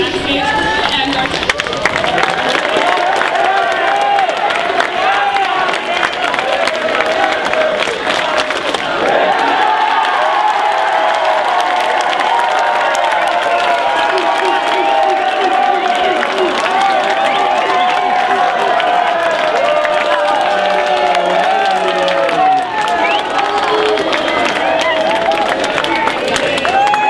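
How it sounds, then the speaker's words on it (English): A theater audience at a Sherlock Holmes stage production gives sustained, loud applause and cheering for the backstage crew, dense clapping that fills the room throughout, with an announcer's voice over it. "And one last round of applause for our backstage crew"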